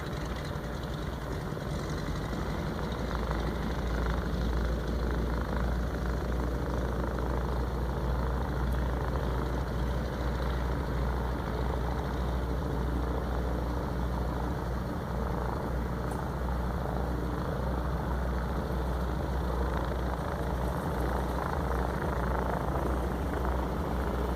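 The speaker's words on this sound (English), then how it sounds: "Another plane taken off from base camp." An airplane taking off from a base camp, a loud, continuous low engine roar that holds steady throughout with no voices.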